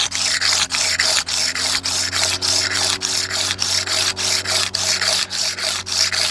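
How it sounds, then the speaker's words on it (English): A stone submerged in water is ground by hand for a Hohokam-style necklace, producing rapid, rhythmic rasping strokes, about two per second, close and fairly loud, with no talking. "I'll submerge the stone with water and just continue grinding"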